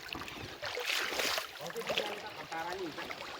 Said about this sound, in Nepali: पानी चाहिँ यसरी बगिरहेको छ मजाको सङ्लो पानी